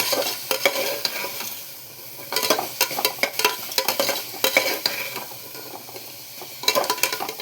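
Beetroot sautéing in a pan, repeated scraping strokes of a spoon against the pan in bursts over a soft sizzle, close and fairly loud, with no talking.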